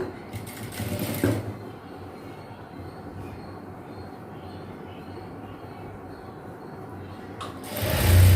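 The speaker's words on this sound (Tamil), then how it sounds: "ஜஸ்ட் அப்படியே வச்சு ஃபோல்ட் பண்ணி ஒரு தையல் போட்டுக்கிறேன்." A sewing machine runs steadily, stitching folded fabric to form an elastic casing for girls' shorts, a continuous whirring hum with a louder thump at the start and end and no talk.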